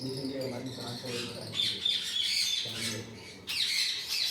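A breeder pair of Alexandrine parakeets squawks in harsh, shrill bursts from close by, calling repeatedly over several seconds.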